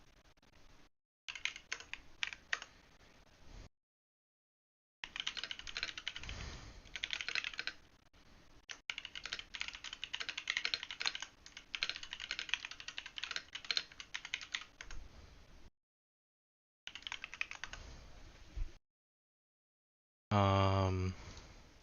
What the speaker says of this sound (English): Regularly scheduled keyboard ASMR is here.